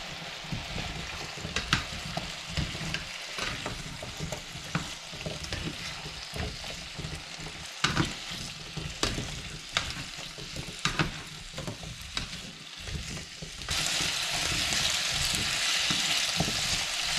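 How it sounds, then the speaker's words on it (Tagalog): Potatoes, bell pepper and carrots fry in oil with a steady sizzle, broken by scraping stirs and clacks, before the sizzle swells louder and more even toward the end; no one speaks. "Prito muna natin saglit to mga boss."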